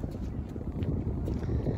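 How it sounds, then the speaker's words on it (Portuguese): Strong cold wind gusting across the microphone at a scenic lookout in Poços de Caldas, Brazil, a steady low roaring buffet, loud and close, with no voices. "Nossa, que vento!"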